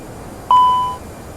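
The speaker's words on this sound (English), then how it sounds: "the sound of a master caution chime rings through the cockpit again" An aircraft cockpit master caution chime: a single clear electronic tone, sounding alone over quiet background hum and fading out after about half a second.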